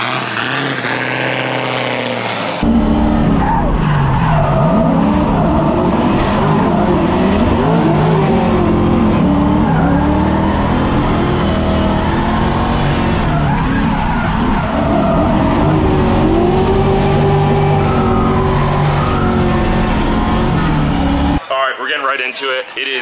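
A drift car at a Gridlife South drifting event skids and revs through the pits, a loud, near engine roar with rising and falling pitch and tire scrub, running continuously for about twenty seconds after a short opening.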